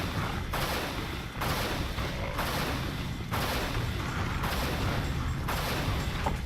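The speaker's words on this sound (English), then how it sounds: "I'm going to use the amplifier and the dispersion pistol on" An amplified dispersion pistol firing in the video game Unreal, loud repeated energy blasts in steady bursts about a second apart, each one a broad roaring whoosh with a dense, continuous rumble underneath.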